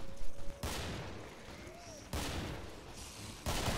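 Gunfire from the Killing Floor video game, three abrupt loud bursts of shots spaced over a few seconds, with quieter game ambience between them.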